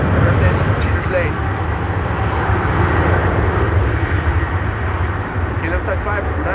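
A KLM Boeing 777-200 airliner at Amsterdam Schiphol Airport produces a broad, steady engine roar under continuous commentary.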